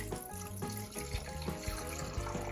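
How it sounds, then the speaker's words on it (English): Water is poured from a measuring vessel into a Vitamix blender jar, a steady close splashing trickle that runs without a break. "put in 8 fluid ounces of water"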